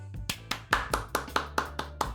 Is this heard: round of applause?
yes